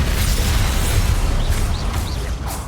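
Confringo blasting spell in Hogwarts Legacy, a loud, rumbling explosive burst with crackling debris that holds steady before tailing off.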